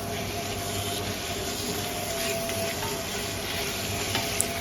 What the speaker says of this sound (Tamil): 200 கிராம் அளவுக்கு தக்காளி சேர்த்து அதையும் நல்லா ஃபுல்லாக மசிய வதக்கிக்குவோம்